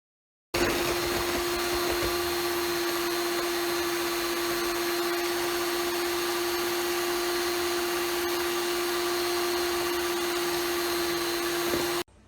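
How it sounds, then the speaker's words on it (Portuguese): An electric stand mixer beats sugar and eggs for a yam brownie batter, giving a steady, continuous motor whine at constant loudness for about eleven seconds, with no talking. "Vai bater o açúcar e os ovos na batedeira até dobrar de"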